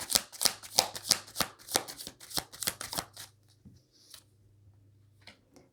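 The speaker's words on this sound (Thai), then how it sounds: "ขอเปิดไพ่ในอดีตของชาวราศีกรกฎค่ะ" Tarot cards are shuffled and flipped in a rapid run of crisp, close riffling snaps for about three seconds, followed by a few quieter single card taps and slides against a faint steady hum.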